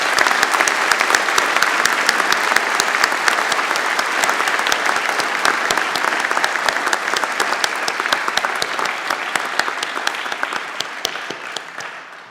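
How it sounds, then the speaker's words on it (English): A convocation audience gives sustained, even applause at a university graduation ceremony, a dense wash of clapping that holds steady for about twelve seconds before tapering off at the end. "A round of applause."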